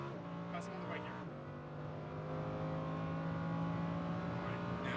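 Lamborghini Huracan LP580-2 at full throttle on a race track, its engine note climbing steadily through an upshift, loud and continuous from inside the car.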